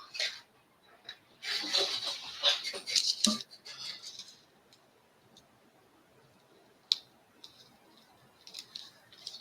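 Small scissors snipping excess material from a soft, half-set craft mold: a run of close, crackly clicks and snips at the start, then sparse, faint ticks over quiet room noise.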